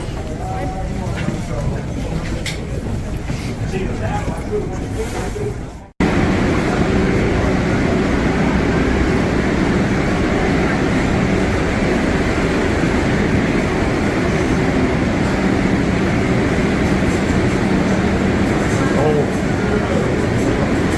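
Subway train rolling along underground with a steady, loud rumble and rattle after the doors close, a sharp break in the noise near the start, with people's voices mixed in.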